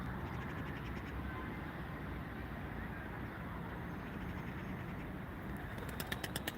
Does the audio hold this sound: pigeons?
yes